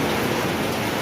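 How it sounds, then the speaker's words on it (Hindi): Heavy rain pours down outdoors during a storm, a dense, unbroken close-up hiss of drops with no voices. "तरपालें गिर गई, बारिश ही बारिश।"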